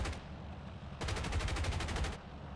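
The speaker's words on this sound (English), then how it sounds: "I start shooting" Machine guns on a P-40E fighter fire in War Thunder: a short rapid burst, then a brief gap and a longer sustained volley of evenly spaced shots, loud and close.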